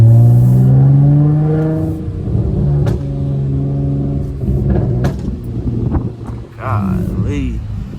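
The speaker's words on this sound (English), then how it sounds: "I know y'all hear the pops." An 8th-generation Honda Accord making over 300 horsepower, driven from the driver's seat, crackles with exhaust pops and bangs over a rumbling engine and wind noise. Someone talks throughout.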